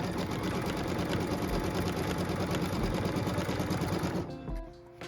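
A sewing machine stitches a tack-down line on a quilt block, running as a steady, fast, close mechanical whir for about four seconds before stopping abruptly, with a few faint clicks afterward.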